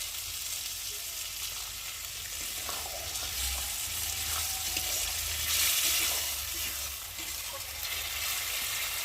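Lote fish fries with spices in a pan, a dense, steady sizzle that stays loud throughout, with faint stirring movements underneath and no voices.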